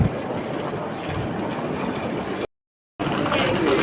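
Rumbling rolling noise of an old German train on the way to Hamburg, steady and close with a faint clatter of the carriage, broken by a brief silent gap before the rumble resumes.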